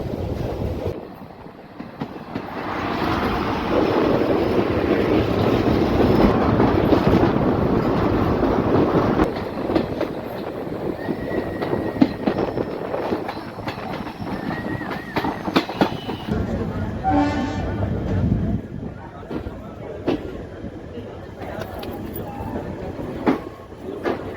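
Koyna Express 11030 running from Kolhapur toward Pune, a steady loud rumble of the moving train with wind buffeting and faint clickety-clack of wheels on rail joints throughout, brief screeching tones near the middle.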